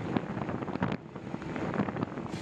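Cold winter wind rushing over a microphone during an outdoor bike ride, a steady broadband roar with gusty buffeting swells that rise and dip briefly, close and fairly loud with no talking.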